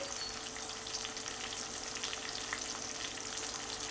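Tomatoes and onions sautéing with salt in a pan, a dense, even, hissing sizzle that holds steady from start to finish, close up with no speech.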